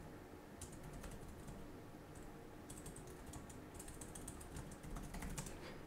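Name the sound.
typing on Lenovo IdeaPad 5 Pro laptop keyboard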